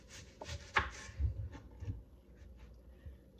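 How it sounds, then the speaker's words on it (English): A knife cuts through a red onion on a board, producing a few quiet irregular thuds and crisp slicing crunches, close but faint. "I'm going to slice this one in half as well."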